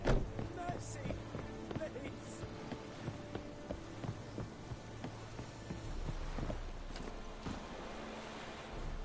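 Horse hooves clip-clop in a video game, a regular train of light hoofbeats at a steady walking pace under game ambience and a talking voice.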